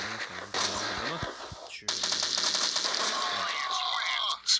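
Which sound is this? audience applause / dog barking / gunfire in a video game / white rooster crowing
gunfire in a video game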